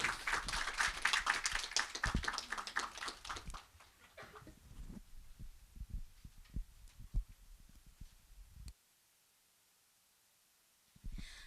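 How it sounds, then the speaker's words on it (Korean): Audience applause welcomes a speaker at a peace forum session on Jeju 4·3, a dense burst of clapping for about three and a half seconds that thins to scattered claps and then falls quiet. "박수로 맞이해 주시기 바랍니다"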